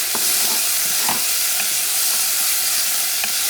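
Pumpkin sizzles in a pot of sofrito for Puerto Rican-style pink beans: a steady, loud frying hiss throughout, with faint clinks of stirring breaking through now and then.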